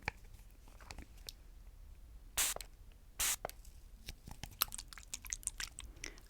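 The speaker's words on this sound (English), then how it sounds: "Okay, so I'm just gonna spray them." Two short, sharp sprays from a spray bottle burst out in quick succession over soft crinkly handling noises, close and fairly quiet.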